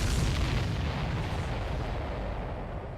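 An enemy supply ship blows up in the Ace Combat 7 flight game: a loud, close explosion bursts at once, then a broad roaring rumble slowly fades over a few seconds, with no speech.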